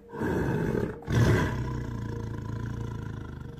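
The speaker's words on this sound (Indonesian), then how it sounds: "kami mendengar auman harimau" A tiger roars in a deep, rumbling burst that breaks off briefly and then resumes as a long, sustained growl fading slowly, loud and close with no other sounds.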